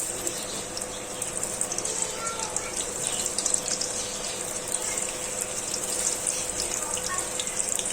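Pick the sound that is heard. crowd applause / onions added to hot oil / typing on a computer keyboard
onions added to hot oil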